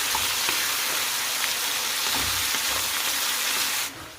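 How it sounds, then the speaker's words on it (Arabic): Chicken pieces frying with spices in a pan, ahead of mushrooms for a creamy chicken sauce, give a steady, dense sizzle with a few soft stirring bumps, close and continuous until it cuts off near the end. "نقليهم حتى يطيب الدجاج"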